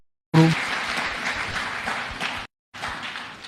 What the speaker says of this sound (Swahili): Kwa Reverend Mureithi, mpe makofi ya kumshukuru.